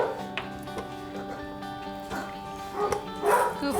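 A pup at a vet clinic gives soft whimpers and yips with a few short barks, fairly faint and close, with brief human voices in the background.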